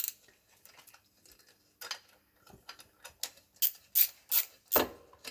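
Clicking and ratcheting of a hand tool releasing the last bolt of a Honda Magna VF750C clutch cable: sparse clicks build into a run of louder, evenly spaced ratchet clicks, close and clear, with no talk.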